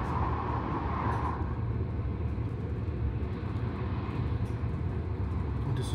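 Finnish VR InterCity train running at speed, heard from inside as a steady, dense rumble and rushing roar that holds constant throughout with no talking.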